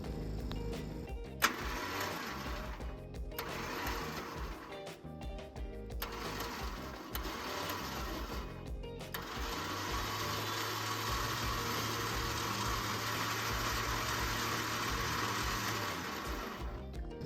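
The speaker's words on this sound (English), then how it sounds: "I got my winch power on now. Remote is on, and we're going to slowly feed in." An electric winch motor spools in synthetic rope under remote control in short bursts, then runs steadily with a low whirring drone, close and moderately quiet, with no voices.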